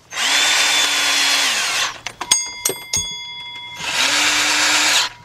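A power tool runs in two sustained bursts to tighten the water pump bolts on a 2006 Chevy Express van, separated by a stretch of clicks and clanks from the tool and sockets; close and loud with no talking.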